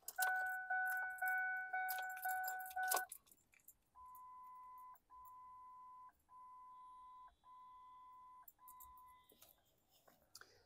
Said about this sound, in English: Let me turn the ignition off.